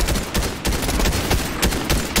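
Quick gunshots in a Fortnite battle royale match, a tight string of sharp cracks fired in close succession and loud throughout.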